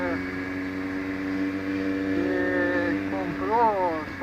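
A Kawasaki Z750 motorcycle engine idles with a steady, harmonic drone after an exhaust swap, with a rattle said to resemble valve tapping. The engine is loud and continuous, shifting slightly in pitch near the end.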